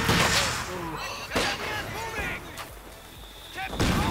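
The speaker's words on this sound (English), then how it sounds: "Oh, yes, that rifle nade felt good." Rifle grenade explosion in Company of Heroes, a sharp blast amid a busy battlefield of repeated gunfire and impacts, with voices talking over the combat.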